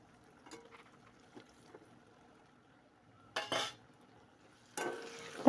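Green-banana koftas frying in a pan are turned over with a utensil, giving two sharp bursts of scraping and clattering against the pan over a quiet background with a few faint taps.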